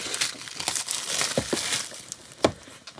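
A thin plastic tray being handled up close, with light crinkling and crackling rustles and a few sharper clicks, fairly quiet with no voices.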